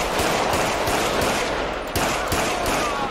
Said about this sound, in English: And these are the gunshot sounds.